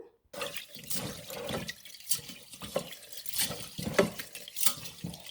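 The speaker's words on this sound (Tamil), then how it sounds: "இதை ஒரு டூ டு த்ரீ டைம்ஸ் வடிவாக வாஷ் பண்ணி எடுத்துக்கொண்டு வர போகிறேன்" Brown rice being washed by hand in a bowl of water, with close, uneven sloshing and swishing bursts, some dripping and splashing, and no talking.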